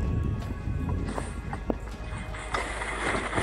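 An unshod horse walks over stones on a mountain trek in Altai, its hooves knocking and clopping irregularly against the rocks under steady wind and outdoor noise, fairly close.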